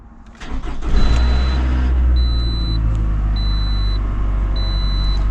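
A Honda engine cranks over and catches, its idle settling into a steady loud rumble, with faint repeated electronic beeps chiming through.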